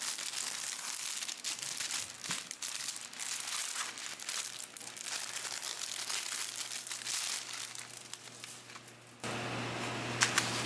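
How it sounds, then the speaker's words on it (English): Plastic packaging on craft kits crinkles and rustles steadily and closely for about ten seconds. The sound is dense and continuous, then drops briefly before resuming near the end. "sorry for talking over the crinkling."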